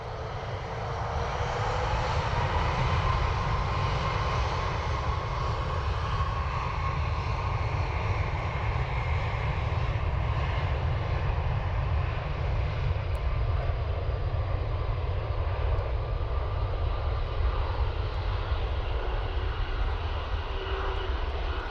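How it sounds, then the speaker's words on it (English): A Ryanair jet moving on the ground at Dublin Airport gives off a loud, continuous engine roar with heavy low rumble and a faint whine that slowly shifts. The sound holds steady and close throughout, with no voices. "Okay, Ryanair's on the move."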